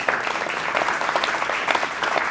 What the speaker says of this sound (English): Don't clap too long.